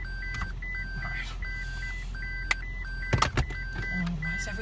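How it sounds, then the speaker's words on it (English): A car's warning chime beeps repeatedly in a regular pattern while the car sits in reverse, over a low cabin rumble and brief handling noises. "Oh, why is everything beeping?"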